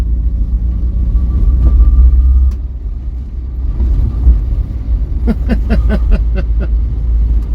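A Vauxhall Viva with a carburettor fault drives in third gear, its engine a loud, close low rumble that dips briefly and then resumes, with a few sharp clicks or ticks near the end.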